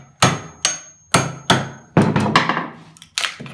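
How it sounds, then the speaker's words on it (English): A hammer drives a wooden piece into notches cut on a table saw, with about seven sharp close-up wooden knocks in an uneven rhythm. A quick flurry of smaller taps falls in the middle. "Take a hammer"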